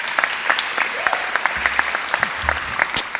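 Audience applause at a Seneca business honors society induction ceremony, steady clapping from a room full of people, moderately loud and continuous throughout.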